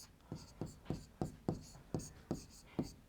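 Pen or marker writing out the outcomes of two dice on a board, in a steady run of seven evenly spaced strokes, fairly close and alone.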